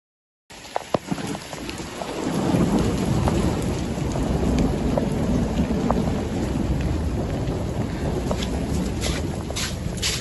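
A hailstorm with thunder pounds Alexandria, Egypt: after a brief silence, a loud, dense, steady roar of falling ice and rain sets in, with a low rumble building underneath and sharp hits scattered throughout.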